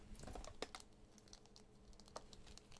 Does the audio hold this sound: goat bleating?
no